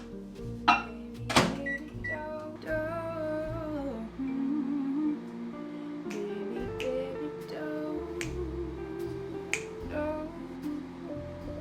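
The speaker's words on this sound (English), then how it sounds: "And melt it in the microwave." A microwave oven melts butter in a home kitchen, with a low steady hum under sharp clicks and taps, then a clear beeping chime near the end.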